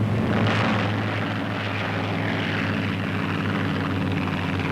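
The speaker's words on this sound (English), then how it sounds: "planes roar down the runway, their motors breathing fire" Propeller warplanes of 1944 roar down a runway at dawn takeoff, a loud, steady engine drone with deep throbbing low tones and broad rushing noise that stays constant throughout, no voices.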